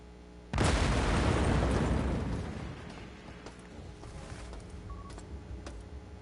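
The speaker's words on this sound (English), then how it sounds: "And camera's destroyed." A security camera in the System Shock video game is shot and destroyed with a sudden loud burst that roars and fades over about two seconds, followed by faint electronic beeps.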